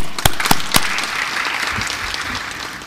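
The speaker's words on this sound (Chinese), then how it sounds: "我们跟他掌声鼓励" A few sharp claps open a burst of applause in a Kaohsiung city council chamber, settling into a brief, even patter of clapping that trails off.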